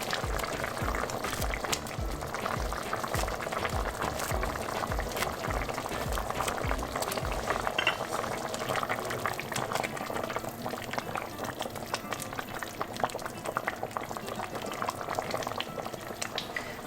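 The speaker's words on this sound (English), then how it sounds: "My soup's been simmering for 10 minutes" Tomato and sourdough soup simmers in a pot, giving a continuous close bubbling and popping that stays fairly quiet and steady throughout, with no talking.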